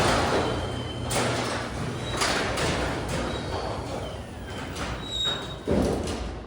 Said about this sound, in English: I do need to lubricate this door. It's really squeaky